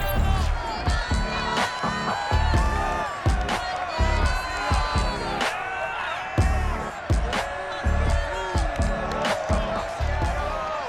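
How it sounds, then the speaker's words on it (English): Loud stadium crowd roaring and cheering inside Lumen Field in Seattle before a Bills versus Seahawks game in Madden NFL 22, a dense, continuous wall of cheers and shouts with surging peaks throughout. "This crowd, as we've come to expect in recent years, as loud as any in the NFL"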